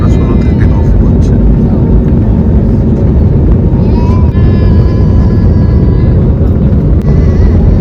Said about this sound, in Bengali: ইঞ্জিনের শব্দ আর প্লেনের গতি সব সময় গায়ে কাটা দেয়